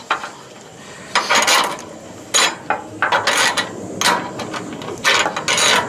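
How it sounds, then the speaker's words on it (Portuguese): A wrench ratchets on solar panel mounting bolts on a roof tile, with bursts of quick metallic clicking close by, separated by short pauses. "Tá fazendo aqui o aperto da parte de cima da telha. E a parte de baixo."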